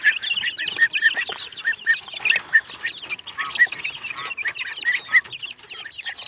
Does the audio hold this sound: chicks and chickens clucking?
yes